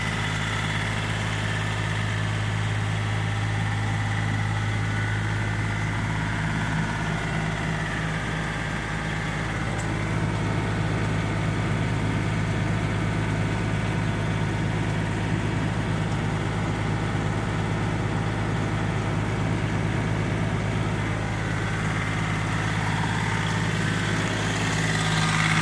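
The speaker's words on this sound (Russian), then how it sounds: "Фреза работает мягко. Главное, без посторонних шумов," A Japanese Yanmar RSB1503 rotary tiller engine runs smoothly at a steady, even drone throughout, close by and without voices.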